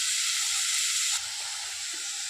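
Crushed garlic and small shallots sauté in hot oil in a pan for rasam, a steady close, loud sizzling hiss that eases slightly partway through.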